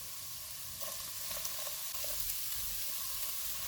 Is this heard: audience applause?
no